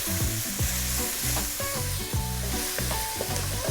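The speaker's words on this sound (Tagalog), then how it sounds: "Gigisahin ko lang siya sandali." Chicken sautéing with curry powder in a pan for a Filipino-style chicken curry: steady close sizzling with repeated stirring scrapes in a rhythmic pattern, with no talking.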